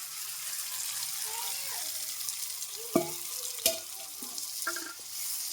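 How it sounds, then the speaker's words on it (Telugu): Chopped tomatoes go into a hot frying pan for a tomato, egg and green chilli curry, bringing a soft wet sizzle with a couple of sharp clunks as they land and slight stirring. "సో ఇప్పుడు నేను కట్ చేసిన టమాటాలు వేస్తున్నాను"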